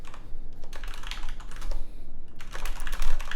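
Rapid typing on a computer keyboard, a Discord message being written, with close, crisp key clicks in uneven bursts and brief pauses throughout.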